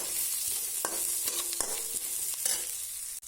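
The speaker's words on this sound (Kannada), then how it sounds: "ತುಂಡು ಮಾಡಿಟ್ಟಂತಹ ಬೆಳ್ಳುಳ್ಳಿ, ಶುಂಠಿ ಹಾಕಿ ಚೆನ್ನಾಗಿ ಫ್ರೈ ಮಾಡ್ತಾ ಇದ್ದೇನೆ." Chopped garlic and ginger frying with green chillies in a pan for aloo palak give a constant bright sizzle close up, broken by regular spoon strokes and scrapes of stirring, with no talk.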